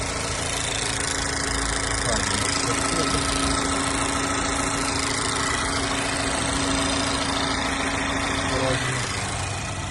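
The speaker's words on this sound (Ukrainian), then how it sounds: "двигун просто працює ідеально" A 2023 Mazda CX-5 engine idling steadily, a close, constant mid-pitched hum with a faint low rumble and no revving, filling the whole stretch on its own.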